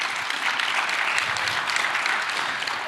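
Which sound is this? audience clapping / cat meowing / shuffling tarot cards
audience clapping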